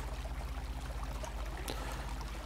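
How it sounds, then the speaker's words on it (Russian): A river flows in the survival game Will To Live Online at night, a soft steady rushing and trickling wash under a low background hum, with no speech. "Слышно реку."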